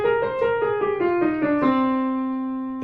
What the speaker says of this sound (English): So we have C natural minor that sounds like this.